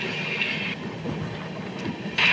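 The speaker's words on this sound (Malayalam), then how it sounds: "ഗൈസ് ട്രെയിൻ ഇപ്പോൾ സ്പീഡ് എടുത്ത് തുടങ്ങിയിട്ടുണ്ട്" An Ernakulam–Velankanni Express train picks up speed, a short stretch of rolling rail rumble with faint rhythmic clatter and a brief higher-pitched burst near the end, heard from aboard with no voices.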